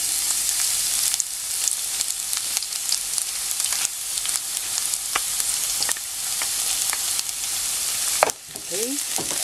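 Garlic frying in hot cooking oil for a pork menudo filling, a loud, close, continuous sizzle with crackles and a brief clatter near the end, no talking.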